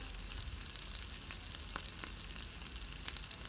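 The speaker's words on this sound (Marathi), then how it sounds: "आता आपण एक चमचा जिरे आणि एक चमचा मोहरी घालतोय" Cumin and mustard seeds crackle in hot oil in a pan, a steady close sizzle with scattered sharp pops and no voices.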